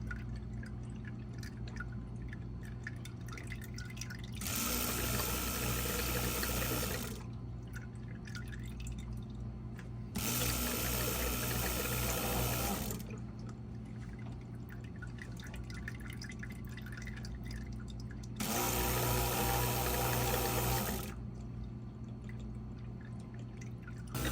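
Suction pulling a mix of diesel fuel and water through a plugged drain during DIY fuel polishing on a sailboat, heard as three loud gurgling, hissing bursts of a few seconds each over a steady low pump hum.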